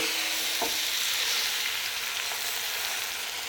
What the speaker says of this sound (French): Hop, tu balances tes œufs.